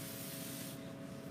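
A spray can hisses paint onto a grapevine wreath in one continuous, soft, close burst of airy spray with no voices.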